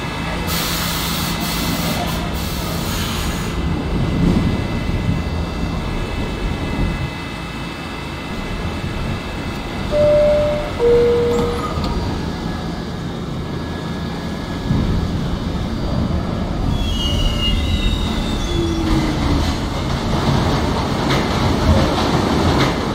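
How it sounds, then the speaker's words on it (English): A New York subway G train runs in the Trainz 2019 game, a steady rumbling rail drone with clattering wheels and brief squeals, continuous and fairly loud throughout, with no talking. "The 18th Avenue bound G train."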